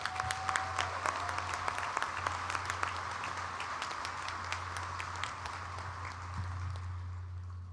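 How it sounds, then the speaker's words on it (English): A commencement audience applauds certificate awardees in a large hall with steady, sustained clapping throughout, a dense even wash of many hands with no voices standing out. "Let's give these certificate awardees another round of applause."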